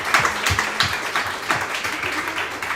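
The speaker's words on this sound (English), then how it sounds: "So I'm asking you all to clap, but there's a reason to clap." Audience clapping at a girls' soccer team gathering, a moderate, fairly continuous patter of hands with a few louder individual claps standing out, slightly uneven in intensity across the stretch.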